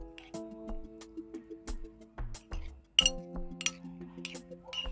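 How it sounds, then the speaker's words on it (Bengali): A spoon stirs and mixes chatpati with tamarind and a little sugar, making sharp, irregular clinks against the bowl while a voice talks quietly in between. "এখন নাড়িয়ে মিশিয়ে নিচ্ছি।"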